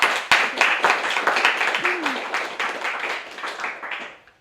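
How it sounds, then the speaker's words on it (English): A lecture audience claps in a round of applause, loud at first and gradually fading over a few seconds, with a brief voice heard partway through. "Let's give another round of applause."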